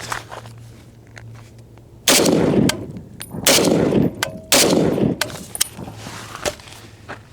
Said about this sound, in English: let's shoot this little bad boy and see how the new stock does on my Kommando. I got M80 ball, my Bren mag.